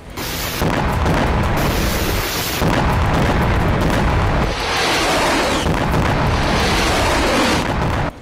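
Several rocket blasts in northern Israel, heavy booming detonations following one another, loud and close with a continuous rumbling roar between impacts and no talk.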